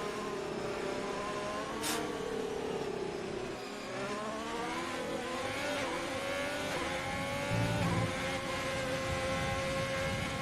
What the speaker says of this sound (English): It looks like we're back to full throttle again as we currently under virtual safety car.